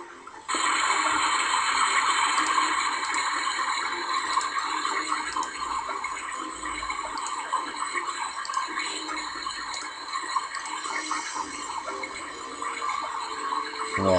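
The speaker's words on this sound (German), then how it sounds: "Wow, das ist mega laut, das Wasser." Loud running water in the video game Reincarnation, a steady hissing, splashing gush that plays continuously and close for the whole stretch, with faint ticking game effects layered in and no talking.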